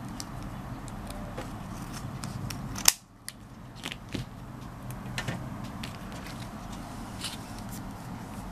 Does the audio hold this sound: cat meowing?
no